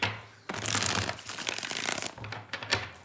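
Tarot cards being shuffled close up: a quiet start, then bursts of crisp riffling and papery slapping in uneven flurries, with a short pause midway and no voices.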